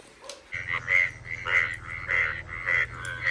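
Recorded frog croaks play from a mobile phone speaker inside a house: a steady run of repeated, evenly spaced croaks over a low electronic hum, fairly close and moderately loud.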